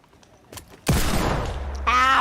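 A single loud gunshot in Minecraft, a sharp blast after near-silence with a long rumbling tail, followed by a voice at the end.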